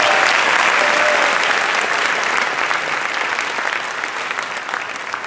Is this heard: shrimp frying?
no